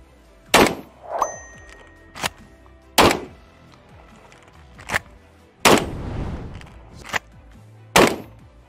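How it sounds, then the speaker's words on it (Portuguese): Firearm drill against a threat ahead: seven sharp, loud gunshots ring out at uneven intervals, with metallic clanks and thunks between them as the gun is opened and given an emergency reload. "Eu vou efetuar um disparo, vou abrir a arma, fazer recarga emergencial, efetuar outro disparo"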